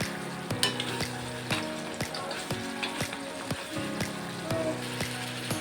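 Raw banana curry being stirred with garam masala in a hot pan, a steady oily sizzle broken by regular clanks of the spoon against the pan, close and moderately loud, with no talking.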